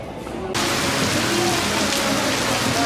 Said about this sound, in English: it's raining suddenly and we don't have any umbrella